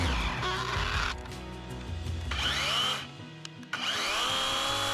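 A DeWalt battery-powered chainsaw cuts through wood at an Alaska cabin, its motor whining loudly and steadily, dipping as it bogs into the cut and rising again when the load eases.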